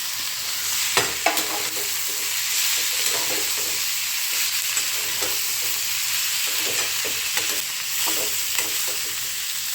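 Peas and potatoes stirred in a hot pan, a steady bright sizzle of frying with repeated scraping stirs spaced through it, close and continuous, no talking.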